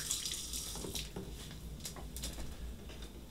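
Water running from a kitchen tap as hands are washed under it, a steady close hiss and splash with brief bursts of spatter, no talk.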